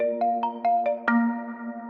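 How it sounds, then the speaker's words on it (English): Synthwave synth arpeggio from the On the Beach preset of the Dream Machine expansion in Easy Keys: five bright, bell-like plucked notes stepping in quick rhythm, then a sustained chord ringing out, clear and close. "I'm going to be using the On the Beach preset from the Dream Machine expansion in Easy Keys"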